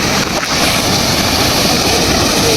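A full flow of water rushes through the Palakkarai trough aqueduct near Perundurai in Erode district, making a loud, unbroken roar that fills the whole stretch.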